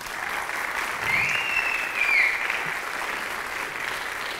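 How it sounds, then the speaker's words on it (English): An audience at a school all-county guitar concert claps steadily in a dense, even wash of applause, with a faint whistle-like tone rising briefly in the middle. "I want to give these kids a round of applause."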